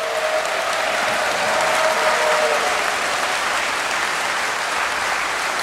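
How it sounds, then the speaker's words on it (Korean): An audience at a peace concert gives a county choir steady, loud applause, a continuous dense wash of clapping from a large crowd lasting several seconds without a break. "박수 크게 부탁드리겠습니다."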